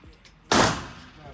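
A single sharp shot from a Zigana Model F pistol cracks out loud and close, with a short ringing decay after a quiet lead-in.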